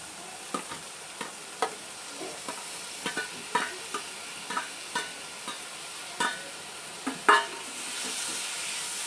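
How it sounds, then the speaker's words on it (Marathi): Cluster beans being stirred into a frying masala: a spatula scrapes and taps the pan in an uneven rhythm of about a dozen distinct strokes over a faint background sizzle, close and fairly quiet. "मी हे गवार आपण याच्या मसाल्यामध्ये आता घालूया"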